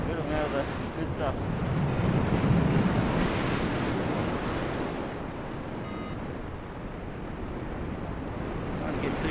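Strong wind buffets the microphone during a paragliding flight along a cliff, a loud continuous roar and rumble with gusty swells throughout.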